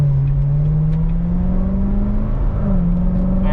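A Chevy Corvette C7 Grand Sport Collectors Edition engine warms up while driving with the AC on, giving a steady, droning low engine tone that slowly rises in pitch, close and even, with no talking.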